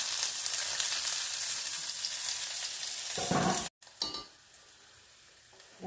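Small onions frying in coconut oil in a pan, a steady close hiss of sizzling that runs unbroken for over three seconds, then cuts off abruptly and returns quieter and thinner.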